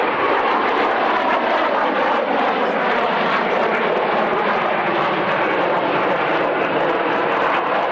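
An aircraft flies a lazy-eight aerobatic manoeuvre at an airshow, its engine roar loud and continuous with a slowly shifting pitch as it sweeps around in front of the crowd.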